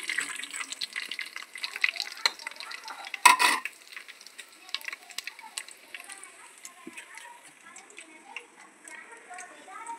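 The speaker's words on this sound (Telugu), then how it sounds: "సో లైట్గా వీటిని ఫ్రై చేసుకుందాం మనం." Biryani leaves and whole spices fry lightly in a pan for vegetable biryani, giving a soft crackling sizzle with a few sharp stirring clinks, heard beneath a voice speaking.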